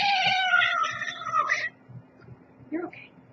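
A kitten gives a loud, drawn-out cry that lasts about a second and a half, then a short second meow follows near the end, with some talking in the room.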